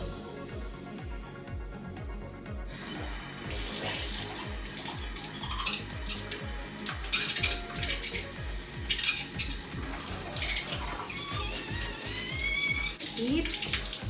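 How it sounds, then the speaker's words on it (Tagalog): Water runs steadily from a homemade DIY shower head onto a hard floor, a continuous splashing hiss with scattered clinks, and a voice speaks briefly at the start. "ngayon, testing naman natin yung shower"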